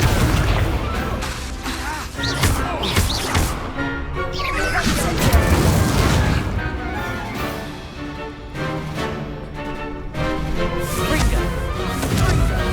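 Spell blasts and booming impacts from Confringo fire in the Hogwarts Legacy video game, a dense run of bursts and crashes over continuous game music and effects, loud throughout.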